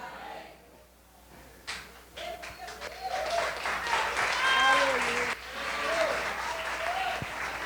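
Church congregation breaking into applause, building from a few scattered claps into a steady crowd clapping, with voices talking and calling out over it.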